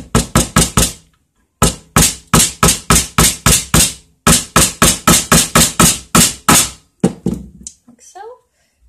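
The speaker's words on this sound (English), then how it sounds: "hammer them in" Rapid bursts of sharp hammer taps driving tiny nails into a wooden sign, several quick strikes in a row, pausing and resuming, loud and close.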